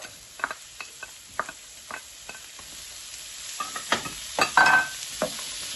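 Chopped onion and pepper frying in a pan for paella, a continuous sizzle broken by stirring scrapes and light ticks, building to a louder clatter near the end.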